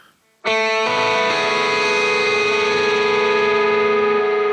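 A sustained electric guitar chord through a 1965 Fender Deluxe Reverb amp model rings out loud and clean with a shimmering reverb tail, struck once after a brief near-silence and left to hold.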